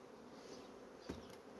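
Black honeybees drone at an open hive on eight frames, a steady, faint buzzing hum close by, with a single bee passing nearer for a moment.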